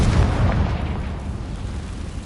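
A Confringo spell explosion in Hogwarts Legacy: a loud, broad booming blast that roars at once and trails off into a rumbling decay, with no voices over it.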